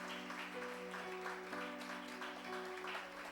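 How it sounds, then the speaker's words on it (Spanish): Church congregation clapping during a Sunday service, a dense, steady wash of applause with sustained musical tones ringing underneath, continuous and moderately loud throughout. "Denle un aplauso al Espíritu Santo de Dios."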